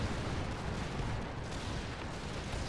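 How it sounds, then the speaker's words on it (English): Cannon fire from an artillery battle in Total War (Lucium mod), a dense, continuous low rumble of booming shots that runs through the clip with no clear gaps. "Actually, did they just fire their cannon?"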